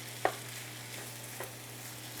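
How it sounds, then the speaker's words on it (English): Vegetable stir-fry being stirred in a pan, a single sharp scrape of the utensil near the start followed by a faint second stir, over a steady low hum and soft background sizzle. "Another little stir."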